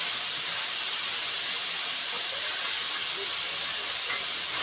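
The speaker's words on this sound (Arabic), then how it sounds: "ننزل عليه البصل اهو." Chopped onions dropped into hot oil while cooking ful harrati with rice, giving a loud, steady hiss and sizzle that fills the whole stretch without pause.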